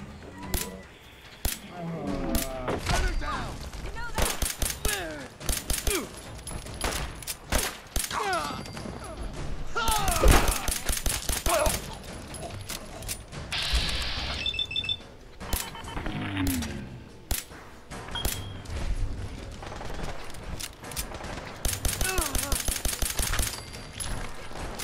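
Gunfire in Fallout 4: repeated bursts of shots and sharp cracks scattered across the stretch, some in rapid clusters, with other game sounds and a voice talking between them.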